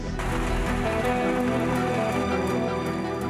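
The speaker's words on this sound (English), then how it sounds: "It's raining again." Steady rain falling in a high mountain forest near the upper tree line, a dense continuous patter on leaves and ground, close and even throughout with no voices.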